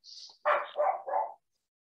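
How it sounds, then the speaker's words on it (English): A puppy barks indoors during an online talk: a high yelp, then three quick, loud, close barks in a row before it falls silent. "sorry for my puppy who decided to chime in"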